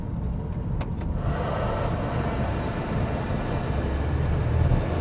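A 1990 Chevrolet Suburban with a 454 V8 rolls out of a shop, giving a steady low engine rumble and road noise with air rushing past the cabin, heard from inside with no talking.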